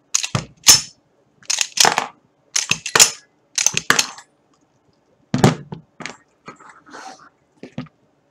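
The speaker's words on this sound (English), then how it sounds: "there is the slide or bolt or breech block. It is the part that seals the chamber shut and reciprocates to remove the empty cartridge and put in a new one." A gun's slide is racked by hand several times to cycle dummy rounds, making sharp, close metallic clacks and snaps in spaced bursts with quiet gaps between them.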